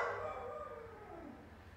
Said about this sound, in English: They got a dog in a crate.